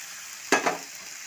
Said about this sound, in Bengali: পেঁয়াজ ভাজা হয়ে গেছে, এগুলো দিয়ে দেবো।